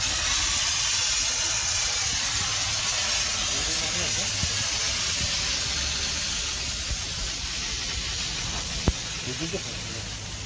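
A Wipcool C30S portable steam cleaner blasts steam at 135 degrees, a loud, steady broadband hiss that runs unbroken throughout with a faint click near the end.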